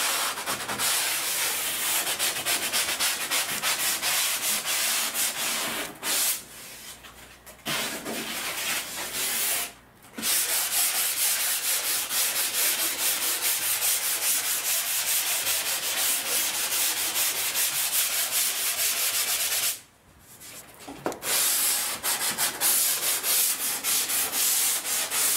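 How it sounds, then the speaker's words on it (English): Sanding sponge lightly rubbing over primed pine wood, a steady close scratchy swishing in long continuous strokes, broken by a few brief pauses. "we'll use the regular sanding sponge and lightly sand the whole surface"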